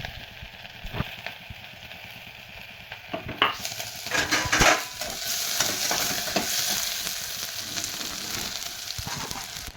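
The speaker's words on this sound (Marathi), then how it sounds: "चला मिरे, लवंगा आणि त्याला टाकायचा कांदा." Garlic, black pepper, cloves and onion for mutton fry in a pan, starting with quiet stirring scrapes and then a loud hissing sizzle that swells as ingredients hit the hot oil and continues steadily.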